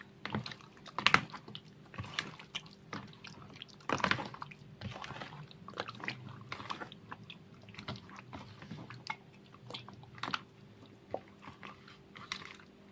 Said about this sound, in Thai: ขยำสักห้านาทีค่ะ